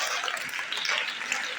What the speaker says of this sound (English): The applause should be more than this.